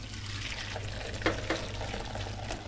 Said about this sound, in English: And then I'll just tip it into the strainer